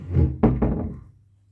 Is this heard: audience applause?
no